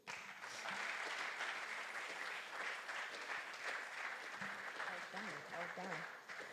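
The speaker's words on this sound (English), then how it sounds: "Another round of applause for Emanuela" Workshop audience applauding a speaker, steady sustained clapping that fills the whole span at a moderate distance, with voices briefly audible over it.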